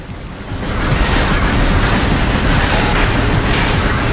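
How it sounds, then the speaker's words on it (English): A missile blast in the Metroid Prime video game swells in after half a second into a loud, sustained, rumbling roar that holds steady and close with no talking over it. "I just shot one of them with a missile"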